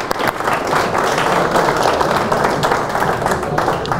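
An audience claps after a billiards trick shot by master player Carlos Vallejo, a busy, even spatter of applause lasting a few seconds with faint crowd murmur behind it.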